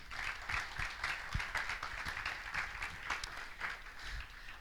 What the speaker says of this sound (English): please let's give them a huge round of applause.